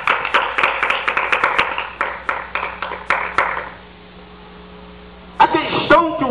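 A church congregation claps in praise of Jesus Christ, quick rhythmic applause that thins out and stops, leaving a low hum before a voice speaks again.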